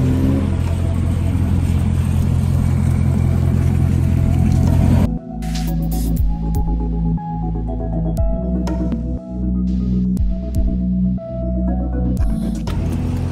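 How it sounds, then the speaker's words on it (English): A Corvette drives through snow with traction control off, a loud close engine rumble that drops off sharply, then rises and falls in uneven revving bursts. "We're here with the Corvette testing out the traction control off while it's snowing"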